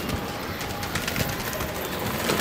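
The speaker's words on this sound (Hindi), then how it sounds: "वो देखें, रामपुरी भी ऊपर बैठी हुई है केज के, वो नीचे देख रही है, ये रामपुरी उतरी" Rampuri pigeons and high-flyer birds around a rooftop cage make soft, steady cooing that blends into a dense, hissy outdoor background, with no clear wingbeats from a landing.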